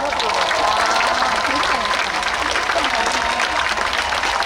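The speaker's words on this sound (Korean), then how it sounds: "아름다운 연주 들려주신 우리 연주자분들과 지휘자분들께 하- 다시 한번 박수 부탁드립니다." An audience applauds performers and conductors after a musical performance, continuous loud clapping filling the whole stretch, with a voice speaking over it.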